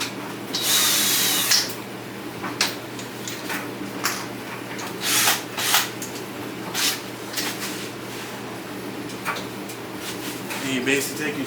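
A power drill drives screws while a cheap eBay front lip kit is fitted to a car, giving several short whirring bursts with pauses between them, close up and fairly loud over a steady hum.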